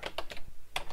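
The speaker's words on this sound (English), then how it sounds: "So I'll manually type that in here within the function." Quick keystrokes on a computer keyboard while entering a formula in a spreadsheet: about six crisp, close clicks in a fast, uneven rhythm, quiet and alone.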